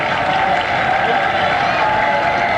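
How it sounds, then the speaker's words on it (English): Cricket crowd at a 1988 Pakistan versus Australia Test in Faisalabad, giving a steady ripple of applause and crowd noise, a continuous wash of distant clapping with a commentator's voice running over it. "A ripple of applause goes up in the air in anticipation of Border's 50"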